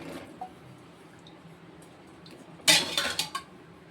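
Soaked chickpeas being rinsed in a kitchen vessel: a quiet stretch, then a sudden burst of clattering and sloshing with a few sharp clinks toward the end.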